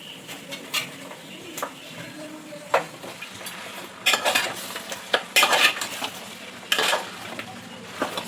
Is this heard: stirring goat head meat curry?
yes